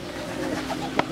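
Young racing pigeons at a loft, with a faint low cooing and a brief sharper call near the end over steady background hiss.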